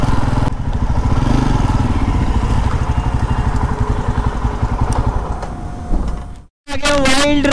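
A Jawa Perak motorcycle engine thrums steadily and loudly throughout a ride, with a brief dropout near the end before the engine note returns.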